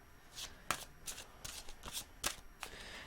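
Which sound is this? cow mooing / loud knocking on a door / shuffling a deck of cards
shuffling a deck of cards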